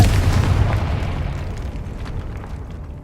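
A Confringo blast spell explodes in Hogwarts Legacy, one loud booming burst with a heavy low rumble that slowly decays over a few seconds, no voices.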